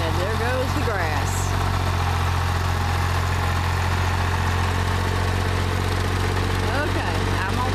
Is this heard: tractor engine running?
yes